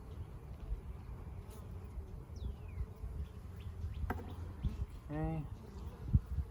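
Honeybees hum around an open hive during a frame-by-frame inspection, a steady low buzz running under close talk, with a brief louder buzzing pass near the end.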